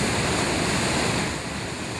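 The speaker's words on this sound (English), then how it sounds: "a place to watch the hypnotic effects of waves rolling onto the shoreline" Ocean waves roll onto a beach shoreline at Ocean Isle near Wilmington, a steady close wash of surf that fades slightly as a wave recedes.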